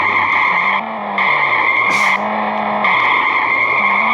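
A car in the horror video game Ice Scream drifts with a loud, steady engine drone and continuous tire skidding, broken by one sharp squeal burst midway, with no talk over it.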